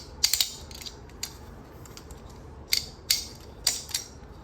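3D printed balisong butterfly knife being flipped: sharp, bright clicks and clacks in small clusters with pauses between, close and crisp over a quiet background, no talk.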